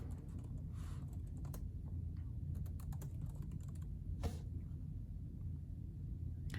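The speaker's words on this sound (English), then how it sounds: "I'm gonna have to actually type it in" Typing on a computer keyboard, a steady run of quick close key clicks over a low background hum, with no talking.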